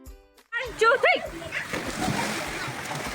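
Children shout and squeal, then water splashes and sloshes in a swimming pool at a farmhouse in Karjat, loud and close, with playful voices mixed in.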